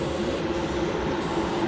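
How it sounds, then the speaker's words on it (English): Race car engines idle on the grid in a GT4 racing game round at Dubai International: a steady, continuous mechanical drone of several engines at even loudness, with no talk. "I can hear the car engines"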